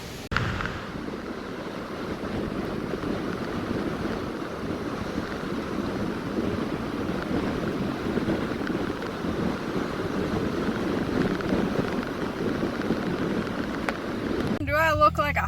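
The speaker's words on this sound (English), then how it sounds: "as you could tell, it is very, very windy and very cold" Strong, cold wind by a river near waterfalls in Michigan's Upper Peninsula roars and buffets steadily for the whole stretch, a loud continuous rush with low rumbling gusts and no clear pauses.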